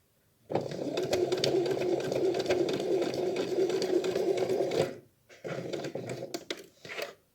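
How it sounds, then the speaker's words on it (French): Sewing machine stitching around the edge of a reusable fabric wipe, a steady loud whirring run of about four seconds, then a pause and a shorter burst of stitching. "Nous allons du coup commencer notre couture ici, faire tout le tour jusqu'ici."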